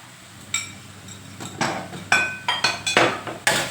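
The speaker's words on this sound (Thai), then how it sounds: "ผัดคลุกเคล้าให้เข้ากันค่ะ" Mushrooms and fried garlic stir-fried in a pan, with a run of sharp metallic clinks and scrapes of the utensil against the pan, growing busier and louder toward the end, with no talk.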